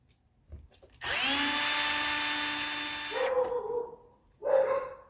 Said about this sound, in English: Just take out these 4 screws.